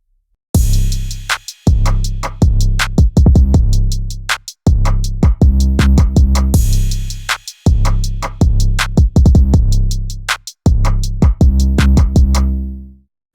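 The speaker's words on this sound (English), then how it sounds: "I went ahead and brought in a crash cymbal." A looping drum beat with heavy bass, now topped by a bright crash cymbal that splashes at the start of each phrase, repeating in steady cycles.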